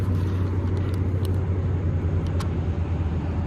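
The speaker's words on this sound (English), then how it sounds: "There's a lot of traffic noise here" Heavy roadside traffic beside a parked truck, a steady loud rumbling wash of passing vehicles with constant low engine drone and occasional faint higher clicks and ticks.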